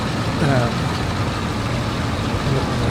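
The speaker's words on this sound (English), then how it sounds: "Little tractor, the T25, yeah." A small T25 tractor engine runs at a steady idle, a continuous low rumbling drone that is close and fairly loud, with a voice partly heard over it.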